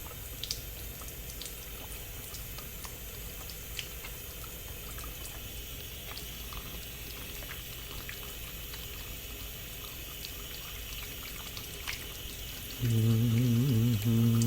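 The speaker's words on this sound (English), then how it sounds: "the first important thing that we gotta do is wash our hands" A kitchen or bathroom tap runs steadily while hands are washed, a soft continuous wash of water with small splashes that goes on throughout, and a low hum joins it near the end.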